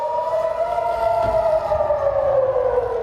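A civil defense siren wails loud and steady through a mock air-raid drill, its tone sliding slowly downward across the whole stretch with no voices.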